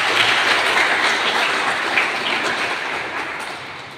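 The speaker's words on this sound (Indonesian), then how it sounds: "saya minta aplaus yang mulia buat Ibu Wadek" Audience applause fills a hall at an Islamic institute's Maulid Nabi gathering, a dense, steady wash of clapping that carries through the whole stretch and fades slightly toward the end.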